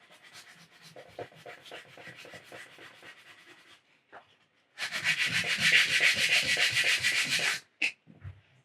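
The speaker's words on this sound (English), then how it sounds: "Sand a little bit, try it, sand some more" Close-up hand sanding of resin: rapid scratchy rubbing strokes, softer at first, then a louder sustained burst of abrasive scraping before stopping abruptly.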